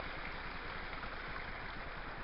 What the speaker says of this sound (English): There's a lot of water running in there.